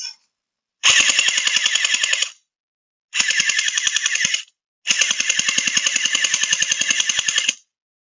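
VDD Toys M16 gel ball blaster with a drum magazine fires three loud, rapid full-auto bursts of about one and a half to three seconds each, with short silent gaps between them and no talking.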